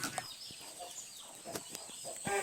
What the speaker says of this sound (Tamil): நம்ம தோட்டலுக்கு கோழி எல்லாத்தையும் பார்க்க போகிறோம்